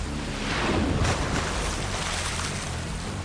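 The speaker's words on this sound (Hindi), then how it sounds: "40 फीट ऊंची डेंजरस वाटरफॉल" A 40-foot jungle waterfall and rushing river, a loud steady broadband roar of falling and churning water heard close, with no voices.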